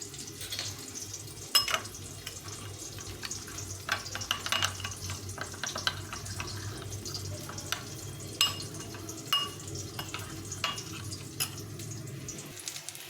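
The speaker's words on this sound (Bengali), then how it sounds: "টমেটোটা একটু ভাজা ভাজা হয়ে গেছে" Tomatoes frying in a pan and being stirred, a soft, continuous sizzle with occasional scraping and clinks of the spoon, close but fairly quiet, with no talk.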